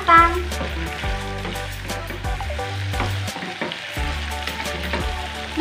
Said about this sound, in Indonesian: Kemudian kita masukkan buncisnya, lalu ini kita aduk-aduk sampai tercampur merata dan kita masak sampai semuanya matang